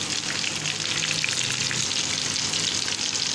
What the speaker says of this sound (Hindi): ये अभी एक तरफ से हो रहा है, इसको हम अच्छे तरीके से फ्राई करेंगे